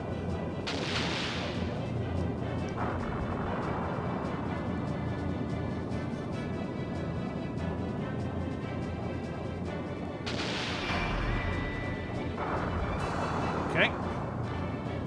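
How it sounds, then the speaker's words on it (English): Torpedo explosions from the video game Skies of Arcadia, two heavy booming blasts about ten seconds apart over continuous loud battle noise and music, with no talk. "He's fired a torpedo."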